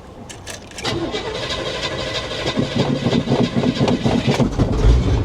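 A rough 1980 square-body Chevrolet 3500 pickup truck engine cranks, catches and fires up, settling into a rough, loud idle with a steady chugging rhythm.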